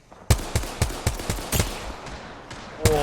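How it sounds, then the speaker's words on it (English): Gunfire in the battle game Apex Legends, a rapid burst of about nine sharp automatic shots followed by a couple of scattered single cracks, close and loud. "good shots from Waltzy"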